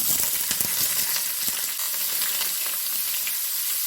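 Chopped onion drops into hot oil with mustard seeds and curry leaves, setting off a steady, close crackling sizzle with a few sharp pops at the start, then a softer even frying hiss.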